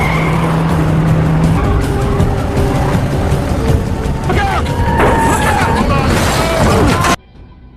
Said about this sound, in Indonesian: Karena mobil Bellick lebih kencang, Lincoln dibuat kewalahan.